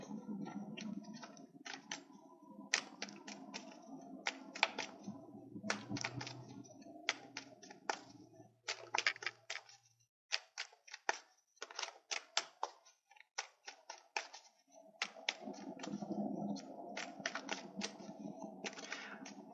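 Tarot cards are shuffled repeatedly up close, a quick crisp riffling and flicking in bursts with brief pauses between.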